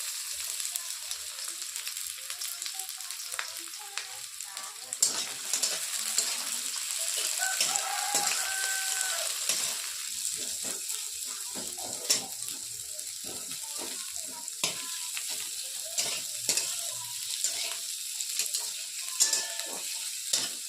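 Chopped onion and green chilli sizzle and crackle in hot oil in a pan as they are stirred, with intermittent spatula scrapes and clinks over a steady frying hiss.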